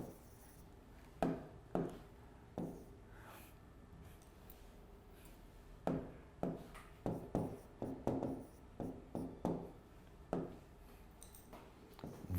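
A pen writes a hint by hand during a maths lecture. Short, quiet scratchy strokes come in irregular clusters, close and soft, and no one speaks.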